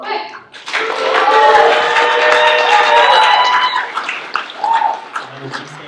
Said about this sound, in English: So let's give a round of applause for Tyson.